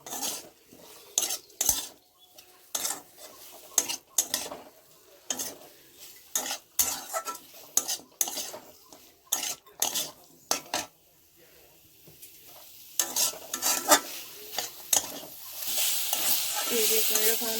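Onions fry without oil in a pan while a utensil stirs them in repeated scraping strokes and clinks against the metal, a soft sizzle underneath, ending in a louder, steadier sizzle.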